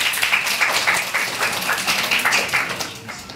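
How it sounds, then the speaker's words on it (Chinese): An audience claps to welcome a speaker at a Taipei talk event, a continuous burst of applause that holds steady and tapers slightly at the end. "所以我们最热烈掌声欢迎维云来跟大家做分享，"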